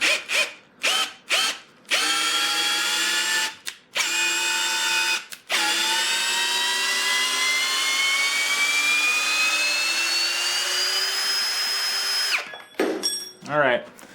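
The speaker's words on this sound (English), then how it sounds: "Very impressed with the hammer drill, with the capability of this bad boy." A Ridgid brushless hammer drill whines at high speed after a few short on-off bursts, then runs in a long continuous pull with its pitch slowly rising before stopping and restarting briefly.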